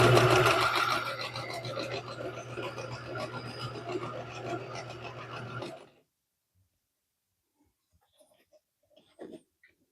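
A sewing machine stitches quilt pieces in a fast, steady mechanical run for about six seconds, then stops and leaves near silence with a few faint rustles.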